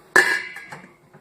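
A metal lid lands on a homebrew kettle of Belgian-style wit with one sharp, ringing clank that trails off, followed by a softer second tap.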